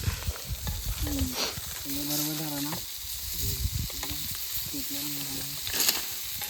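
Garlic sizzles in hot oil for kaul chicken cooked outdoors in a forest, a steady crackling hiss with scraping stirs, partly under people talking.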